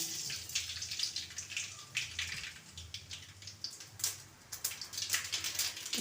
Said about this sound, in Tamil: கடுகு நல்லா பொறிஞ்சிக்கிட்டு இருக்காங்க